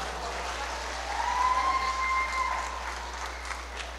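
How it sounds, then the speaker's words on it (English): Audience applause at a wedding reception in Trinidad after a dance, a steady wash of clapping from a crowd that swells briefly in the middle and then eases off. "Another lusty round of applause for Chloe."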